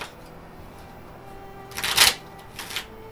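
A quick riffle of cards being shuffled, a short crisp burst of flapping followed by a softer second ripple, close up against quiet background.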